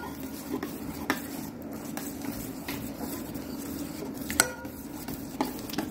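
Puppy food for an American Bully puppy is stirred and mashed in a bowl, soft, quiet scraping and clinking of a utensil against the dish with a few sharper taps now and then.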